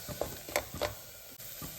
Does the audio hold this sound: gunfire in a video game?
no